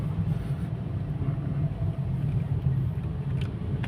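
Car moving slowly through city streets on light throttle, a steady low engine rumble that holds even and close throughout with no voices over it.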